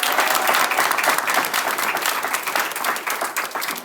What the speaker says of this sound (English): So a round of applause for Jeff Chang